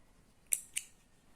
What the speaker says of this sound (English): just chain 1 and leave a bit of a tail, and then cut my yarn